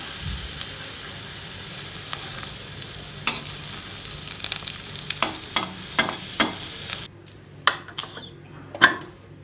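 Raw banana pieces fry in a hot pan for a curd chutney, a steady sizzle under repeated clinks and scrapes of a spoon stirring against the metal, ending in a few sharp taps with no one talking.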